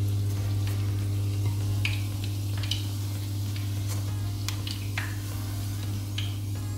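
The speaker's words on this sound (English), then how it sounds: "we're just gonna make sure we're getting every bit in the oil as we can" Fry bread dough sizzles steadily in hot oil, a constant frying hiss with a low hum underneath and occasional light clicks and scrapes from turning the dough.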